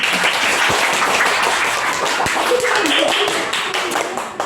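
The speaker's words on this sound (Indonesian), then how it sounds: "tepuk tangan untuk kelompok tupai" A classroom group of pupils claps for the squirrel team, a dense patter of many small hands sustained for several seconds, close and fairly loud with some voices mixed in.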